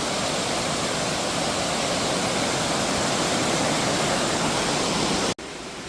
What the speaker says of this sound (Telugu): చూసారు స్వామి జలపాతాలు.